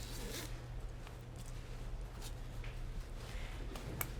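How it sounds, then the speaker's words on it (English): A zipper being opened down the back of a theatrical wedding dress costume, a faint, steady rasping pull heard alone over a low background hum. "which is just a zipper in the back"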